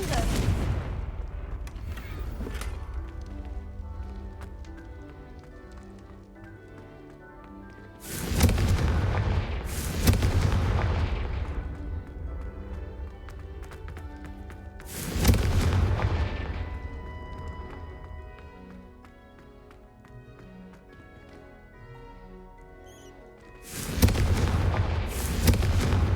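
Confringo fire spells blasting in the Hogwarts Legacy video game, four loud booming explosions with crackling tails spaced several seconds apart over a low rumbling game score.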